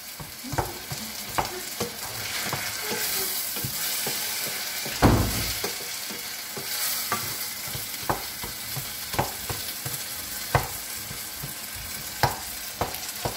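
Food stirred and frying in a pan, a steady sizzle with repeated scraping knocks of the spoon against the pan and one louder clank midway, close and alone with no talk.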